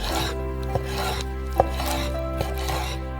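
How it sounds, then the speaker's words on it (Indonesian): A knife chopping chicken thighs on a cutting board, with a few distinct sharp chops standing out over a steady background hum of a kitchen, nearby and moderately loud. "Yang terakhir adalah paha ayam. Mari kita potong-potong."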